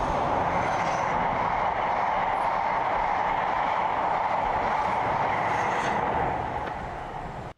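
A train rolls past on rails in a steady, loud, continuous roar of wheels and carriages with a broad rumbling hiss, holding level for several seconds before fading slightly at the end.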